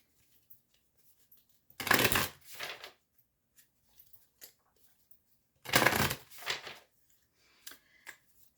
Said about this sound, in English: And just shuffle this deck up here.